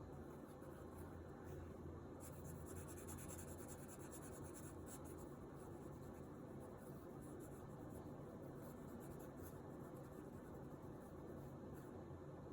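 A Sharpie marker draws across paper, a soft continuous scratching and rubbing close by under a steady background hiss, with no talk.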